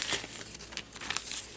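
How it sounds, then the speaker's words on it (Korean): Plastic vinyl sheet crinkling as it is spread out on a work surface for miniature clay bowl crafting, with soft crackling rustles close by and no voices. "자, 비닐을 깔고요."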